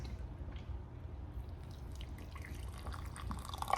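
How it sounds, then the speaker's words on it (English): Hot water poured onto a Chinese special forces MRE tomato egg drop soup, a soft, close trickle and drip of liquid running steadily into the pouch, growing slightly louder toward the end. "I'm just gonna pour hot water on it and see what happens"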